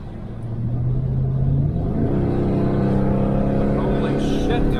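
A 1968 Chevelle Nomad fitted with an LS engine pulls away hard, its V8 rumble climbing in pitch as it accelerates, loud and close throughout.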